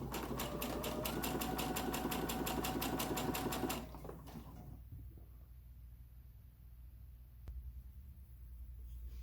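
A sewing machine stitches a lunchbox placemat in a fast, even run of needle strokes for several seconds, then stops, leaving quiet hum and a few faint handling taps.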